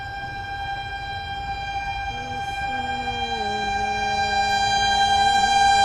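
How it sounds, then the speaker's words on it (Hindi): An oncoming Indian railway train hauled by a WAP 7 electric locomotive approaches on the Kanpur–Lucknow line, a sustained tonal hum with a horn-like wail that swells steadily louder as it nears. "सामने ट्रेन आ रही है, मैं आपको दिखाता हूँ।"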